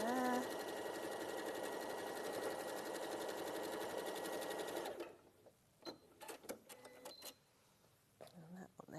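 Sewing machine stitching fabric in a steady fast whirring run for about five seconds, then stopping, followed by quieter handling clicks and rustles.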